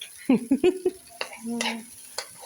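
Fried rice is stirred in a pan with a few quick scraping strokes over a soft sizzle, close by and fairly quiet.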